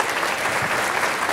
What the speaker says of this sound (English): Give the panel another big round of applause.